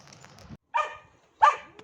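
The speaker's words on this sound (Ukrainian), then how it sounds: "Кошеня бігає за мною, собака його бачить, не любить, гавкає." A farm dog in a Poltava-region village barks twice in short, sharp bursts, moderately close, with a faint low rumble before the first bark and quiet gaps between.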